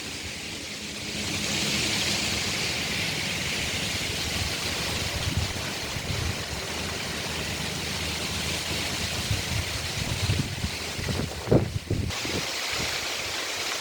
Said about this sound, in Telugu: వాగు ప్రవాహము